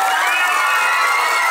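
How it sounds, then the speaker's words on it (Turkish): Large outdoor crowd at a Victory Day centennial celebration in Başakşehir cheering and shouting loudly, a dense continuous roar of voices with children's shouts mixed in, any clapping buried under the cheering. "Umur için büyük bir alkış"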